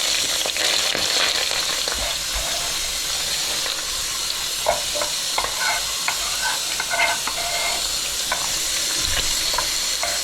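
Onions fry in a pan for Hungarian braised liver, a loud continuous close sizzle and hiss with occasional stirring scrapes and clatter, no talking.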